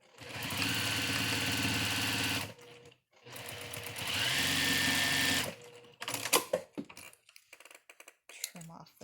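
A sewing machine stitches the folded pleats of a cloth face mask in two steady, close bursts of whirring, each about two and a half seconds long. Short handling clicks and rustles follow the bursts.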